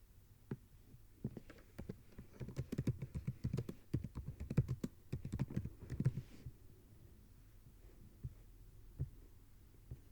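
Computer keyboard typing in irregular bursts of soft, close key taps, busy at first, then a few scattered strokes near the end, with no talking.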